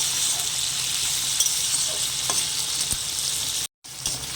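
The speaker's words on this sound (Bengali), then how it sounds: "তেলের মধ্যে আমি কুঁদরিগুলো ভেজে নেব। ওগুলোও আমি তেলের মধ্যে প্রায় সেদ্ধ করে নেব, ভালো করে কষিয়ে" Ivy gourd (kundri) fries in oil in a pan, a steady loud sizzle crackling right up close, with a few faint taps of stirring and a brief dropout near the end, no voices.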